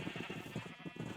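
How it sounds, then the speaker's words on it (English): Sheep in the Minecraft modpack FTB Interactions Remastered bleat in a steady run of short repeated calls, fairly quiet and continuous, with no talk over them. "Oh, wow, we already have a lot of sheep."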